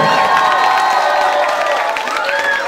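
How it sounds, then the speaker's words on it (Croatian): At a primary school prom night in Bihać, a large hall audience applauds and cheers for teachers, professors and the principal, with sustained clapping mixed with shouts and whoops. "Ja vas zamolim prije svega jedan veliki aplauz za vaše nastavnike, profesore, direktoricu."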